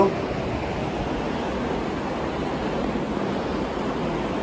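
Sea surf washing steadily onto the beach at Mandarmani, a continuous broad rushing roar at even loudness throughout with no distinct individual breaks.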